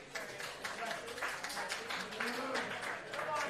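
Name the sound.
light applause from audience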